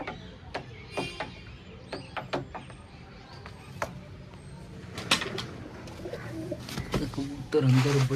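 A pigeon cooing indoors: soft, low, repeated coos mixed with scattered clicks, taps and shuffling knocks, fairly faint, with a louder rustle near the end.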